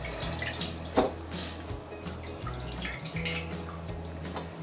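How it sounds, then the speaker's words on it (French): Brine draining off catfish into a sink, a steady close trickle and drip of water with a few louder splashes, no talk. "Je vais l'égoutter."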